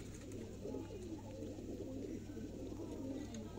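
Pigeons coo softly and repeatedly through a quiet, steady background hum, with no one talking.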